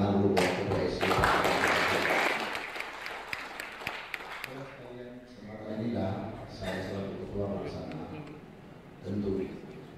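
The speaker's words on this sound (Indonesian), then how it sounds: "Tepuk tangan dulu buat Ketua SC." An audience at the closing session of a provincial Golkar Party congress in Bengkulu applauds the steering committee chair, a burst of clapping that fades as amplified speech continues over it.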